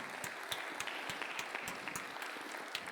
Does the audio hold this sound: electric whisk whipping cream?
no